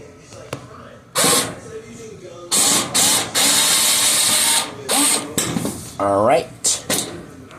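A power driver backs screws out of an overheating dryer in bursts, whirring loudly in several short runs and one longer stretch, with a rising whine near the end and brief clicks between.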